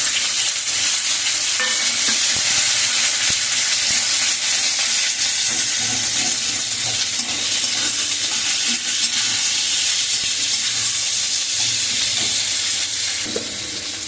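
Chopped onions fry in oil in a pan while cooking tangra fish, giving a steady, loud sizzle and hiss that runs without a break and is now and then stirred, with no voices over it.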